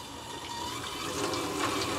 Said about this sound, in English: I'm gonna rinse it off really well with some cold water, not hot water that I had running.